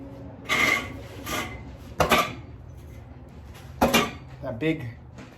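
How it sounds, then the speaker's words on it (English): A knife stabbing repeatedly into a heavy punching bag, several dull thuds and scraping impacts in an irregular rhythm, close by, with someone speaking between strikes. "some stabbing here again"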